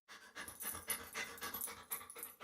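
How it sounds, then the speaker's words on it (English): A family dog pants rapidly and steadily in close, breathy bursts, heard alone with no voices over it. "this might sound like a typical family dog"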